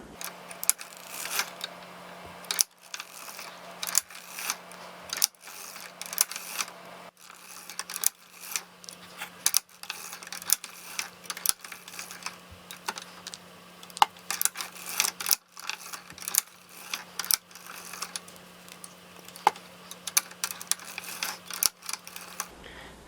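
A vintage hand-cranked sock knitting machine working the heel of a sock, its mechanism clicking and clattering in quick irregular bursts with brief pauses, close and moderately loud over a low steady hum.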